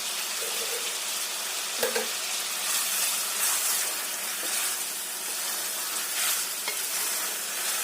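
Chicken frying with homemade onion paste for Lahori daal gosht, a steady close sizzle with intermittent stirring scrapes and one sharp utensil knock near the start, no talking.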